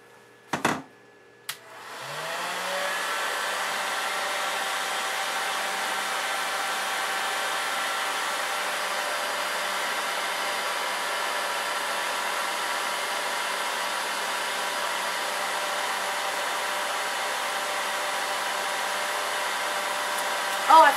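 Hooded hair dryer switching on after a couple of clicks, then a steady loud whirring blower hum that continues unbroken, heard up close with no talking.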